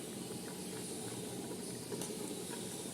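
Jackfruit varatti mixture coming to a boil in a pressure cooker, a steady soft hiss and simmer with faint bubbling, close and continuous with no voices.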